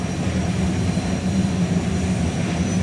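Jet turbine engine of the Fire Force 2 turbine-powered drag racing car at a drag strip, a steady loud roaring whine held throughout with a heavy low rumble underneath.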